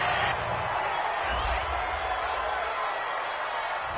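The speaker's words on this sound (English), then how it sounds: "this crowd does not like that call" A video-game stadium crowd in Madden NFL 20 murmurs and roars in a steady, dense wash of noise, reacting to a penalty call during a New York Giants vs New England Patriots game.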